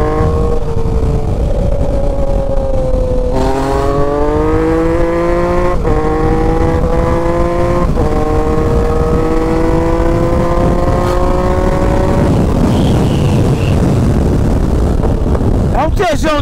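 A Yamaha MT-09 Tracer motorcycle with an Atalla 3x1 stainless steel exhaust accelerates through the gears on a test ride. Loud rising engine tones are broken by quick shifts, under heavy wind rush, with a rider speaking over it.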